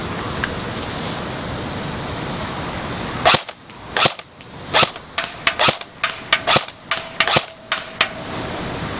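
An airsoft HK G36 rifle fires BBs at small tin targets outdoors, a string of about a dozen sharp semi-auto cracks at uneven intervals, some followed by faint metallic pings, loud over a steady background hiss.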